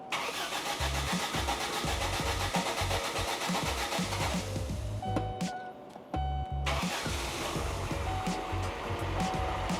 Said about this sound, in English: Haven't started this car in a few months. I'll bet it starts.